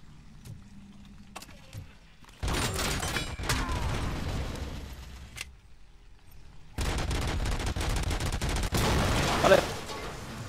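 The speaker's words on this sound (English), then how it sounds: "OCP turret, stationary enemy, lays heavy suppressive fire." Suppressive fire from a stationary OCP turret in the RoboCop video game: two long, loud bursts of rapid gunfire, the second stronger and sustained, separated by a brief lull.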